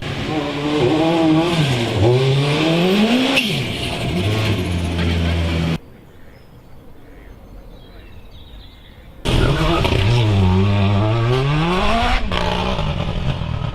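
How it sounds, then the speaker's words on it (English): World Rallycross Mini race car based on the Countryman, 600-plus horsepower, with its engine revving loud and close in rising and falling sweeps. It cuts briefly to near silence, then returns with more revving. "So this behind me is the World Rallycross Mini, which is based on the Countryman"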